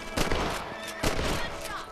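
Gunfire from hunting rabbits in Red Dead Redemption: two sharp shots about a second apart, close and fairly loud over faint game ambience.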